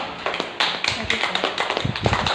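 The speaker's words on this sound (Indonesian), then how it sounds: "Tepuk tangan dulu." Classroom audience clapping hands, a small group producing uneven, distinct claps at close range, sparse at first and then quicker, with some talk mixed in.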